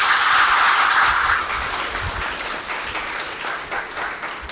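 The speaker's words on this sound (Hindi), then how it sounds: "बहुत जोरदार ताली बजाइए अपने लिए" A large crowd applauds loudly and continuously at a spiritual rally gathering, dense clapping that stays strong throughout and eases slightly after the first second.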